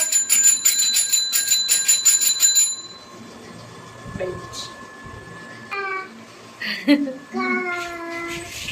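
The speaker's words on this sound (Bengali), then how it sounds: "আমরা বেল দিচ্ছি" A bicycle bell rings rapidly and repeatedly for a few seconds, loud and close, at a family home; after it stops, people talk and a voice follows.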